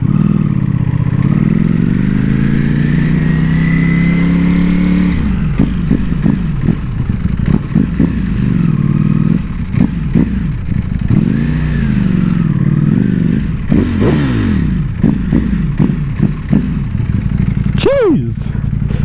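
A Ducati Panigale V4S motorcycle in race mode revs hard and loud close by, rising and falling through repeated throttle blips and gear changes, with a voice speaking over the engine.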